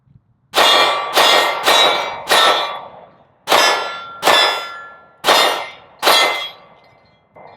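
Eight sharp, loud reports from a Taurus 709 Slim 9mm pistol firing HST rounds at a shooting range, in two groups of four with brief pauses between shots and a ringing decay after each.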